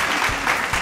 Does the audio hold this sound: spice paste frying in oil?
no